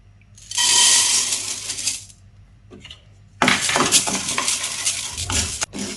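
White urad dal dry roasting in a pan, hard grains rattling and scraping against the metal in two bursts of stirring separated by a short quiet gap, with no voices.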